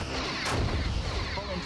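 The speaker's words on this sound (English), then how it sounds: "We got one phaser blast off." A phaser blast fires during a Star Trek starship battle game involving the USS Vimy Ridge, a short bright burst rising out of a dense, constant rumble of game noise while a voice talks over it.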